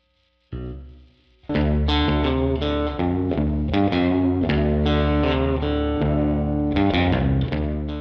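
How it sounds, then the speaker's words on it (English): Electric guitar through a Line 6 Helix Stadium XL with spring reverb, a single note followed by strummed, sustained chords ringing with a splashy, echoing tail, played alone without talk. "How about some spring reverb?"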